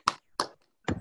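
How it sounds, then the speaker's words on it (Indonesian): A class claps in a rhythmic spirit-clap pattern, three sharp bursts of hand claps spaced apart, close and clear with no talking. "Oke, kita tepuk semangat dulu."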